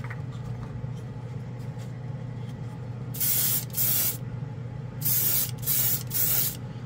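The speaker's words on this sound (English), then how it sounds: "I've loaded up the Grex. This is going to push quite a bit of paint, so I might have to refill the cup." A Grex airbrush sprays Firebird colour shift paint in short hissing bursts, one pair and then three quick blasts, loud and close over a steady low background hum.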